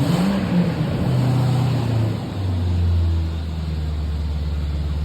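A Ford F250 truck engine runs steadily after a fuel pump and electrical repair, giving a loud, close, continuous rumble with a slight rise and fall in pitch, as if lightly revved, and no talking over it.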